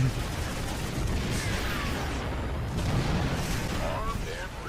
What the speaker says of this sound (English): Let's stand still and fire bullets at each other